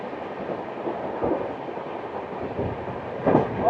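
Shantiniketan Express 12337, an express passenger train, rumbling along the rails with a steady low roar and faint clickety-clack from the wheels, swelling slightly near the end.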